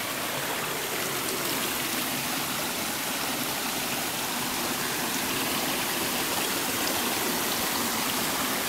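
Spring-fed stream in a Maui, Hawaii jungle, water flowing steadily in a close, continuous rushing wash with no voices.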